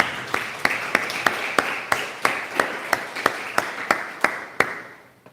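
A church congregation claps in steady unison during worship, about fifteen sharp, evenly spaced beats that ring with room reverb and fade away at the end.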